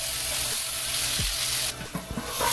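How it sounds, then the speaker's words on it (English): Garlic, tomato and chili sizzle and fry in hot oil in a pan, with a steady close crackle and a few stirring clunks, and a brief dip before the hiss swells again. "Heat the pan, add some oil, then garlic, tomato, and chili. Saute properly"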